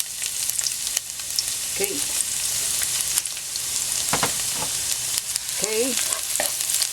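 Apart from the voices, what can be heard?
garlic sautéing in cooking oil in a pan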